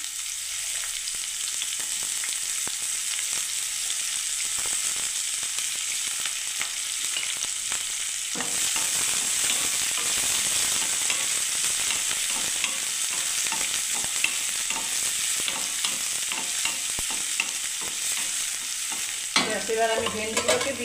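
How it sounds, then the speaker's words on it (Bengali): Chopped onion hits hot oil in a pan and sizzles steadily while being stirred, a loud continuous frying hiss with scraping stirs, louder after the first few seconds; no talking. "তেল গরম হয়ে গেছে বন্ধুরা। আমি পেঁয়াজটাকে দিয়ে দিলাম বন্ধুরা।"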